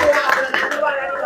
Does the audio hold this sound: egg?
no